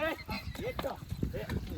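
A mare's hooves clip-clop at a steady walking rhythm, partly buried under people talking nearby.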